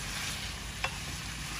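Garlic and mushrooms frying in oil in a pan, a quiet steady sizzle with one short utensil tap partway through.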